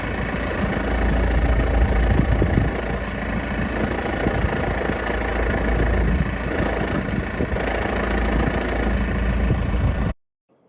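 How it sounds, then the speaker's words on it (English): A BMW 320D E90 diesel idles with a rattling flywheel, a steady close-up clattery drone that cuts off abruptly near the end. "the flywheel rattles on this car quite a lot"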